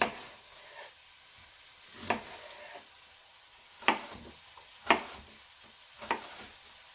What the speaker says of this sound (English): now we're going to get a better angle here of us cooking the meat